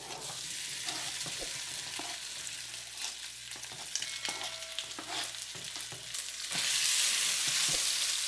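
Beef frying in oil in a pan for fried rice, a steady close crackling sizzle with scattered spatters and scraping stirs, swelling louder and hissier toward the end.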